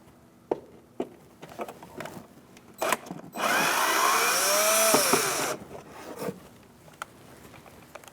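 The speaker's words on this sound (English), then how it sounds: "I'm going to go up here with a Phillips head and remove that screw" A powered driver with a Phillips bit whirs for about two seconds, backing a screw out of the front inner fender liner of a 2000-2006 Mini Cooper, close and loud between scattered small clicks and handling taps.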